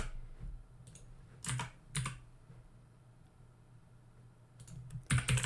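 Computer keyboard typing in a quiet room: a few scattered clicks, then short bursts of keystrokes near the start and a denser clatter at the end, close and moderately soft with no talking.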